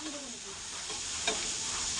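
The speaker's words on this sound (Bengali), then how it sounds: "এক পিঠ ভাজা হয়ে যাচ্ছে" Live koi fish fry in hot oil, giving a steady close sizzle and hiss with a faint stir or splatter partway through, and no talking.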